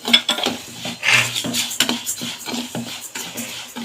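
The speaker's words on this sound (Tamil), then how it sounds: "இதுங்க இந்த பச்சரிசியும் போட்டு இதோட ஏலக்காயோட நல்லா வறுத்துறோம்." Raw rice dry-roasting with cardamom in a pan for thiruvathirai kali, heard as close, rhythmic scraping and rasping strokes of a spoon stirring the grains against the metal, about two strokes a second, no talk.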